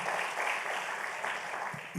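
A church congregation clapping steadily, a dense, even spread of applause lasting the whole moment, fairly close and without talk over it.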